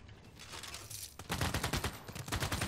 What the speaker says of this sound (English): And the field cannon. Can start taking some shots.